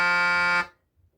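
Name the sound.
truck horn honking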